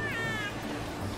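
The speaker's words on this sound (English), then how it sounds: "Hello cats, evil cats." A cat meows once, a short, clear, rising-then-falling cry from the video game A Hat in Time, heard close over a steady game background hum.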